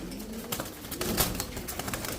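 Pigeons of foreign racer breeds kept for sale, soft low cooing repeated in short bursts, fairly close and quiet, with no talking.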